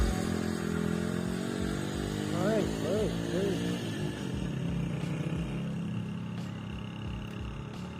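A Yamaha YBR motorcycle engine labours steadily uphill on the Margalla Hills road near Islamabad, a continuous low throbbing drone with rhythmic pulsing, up close under someone speaking over it.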